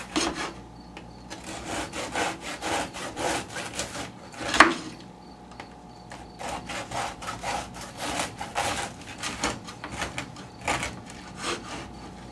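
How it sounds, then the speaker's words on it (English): A knife saws through a loaf of homemade whole wheat bread from a bread machine, making steady rasping back-and-forth strokes in a continuous rhythm with one sharper knock midway, close up, with no talk. "I prefer cutting it in half first. I find it's a lot more of a manageable size. And then I like to cut it into slices."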